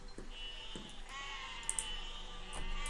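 Sheep bleat in the game Besiege, a few short cries rising over steady background music and game noise, fairly faint and spaced apart.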